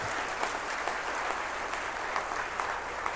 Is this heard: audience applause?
yes